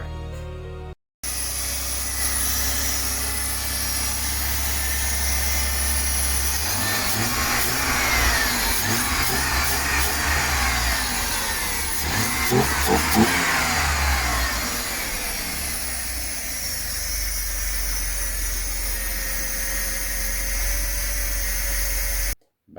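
The M103 engine of a Mercedes R129, sitting unused for four years, starts up and runs with a steady mid-pitched drone, then rises through several revs before settling, heard close and alone.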